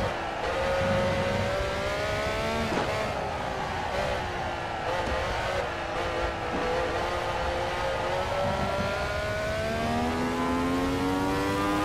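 A classic Formula 1 car in Assetto Corsa runs at high revs with a continuous loud engine howl, its pitch rising and dropping through gear changes over the whole stretch.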